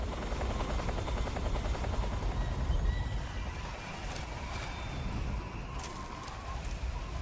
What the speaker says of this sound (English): The Hind is an actual helicopter that's found in Metal Gear Solid